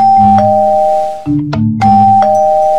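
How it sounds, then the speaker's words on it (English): A doorbell in the Minecraft video game rings again and again, its loud two-tone ding-dong chime repeating in quick succession with no talking. "the doorbell! It won't stop!"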